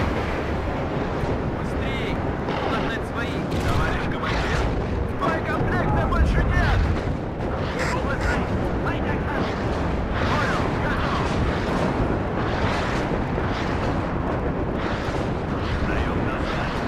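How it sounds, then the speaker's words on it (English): Rocket explosions in the real-time strategy game WARNO, a continuous rumbling barrage of booms and blasts with a heavier swell in the middle, while a voice talks over the din. "Those rockets certainly did the trick."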